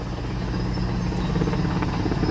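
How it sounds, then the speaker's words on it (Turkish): A military helicopter fighting a wildfire in Manavgat gives a steady, loud rotor roar with a continuous low thrum throughout, and no voices are heard. "Askeri helikopterimiz yetişti."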